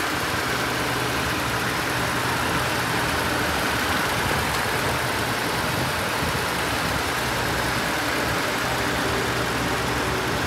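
A 2016 Ford F-150 pickup truck engine idles steadily close by, heard from the engine compartment, a constant low rumble with a faint whirring hiss, unchanging throughout and with no voices.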